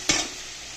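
Squeezed soya chunks drop into a hot pan of spices and tomato, making a sudden sizzling burst that quickly settles into a faint steady frying hiss.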